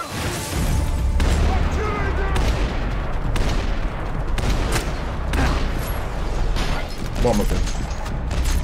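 Shotgun blasts in Max Payne 3 fired at distant enemies, repeated loud booms over a dense, busy game mix, with a voice briefly speaking near the end.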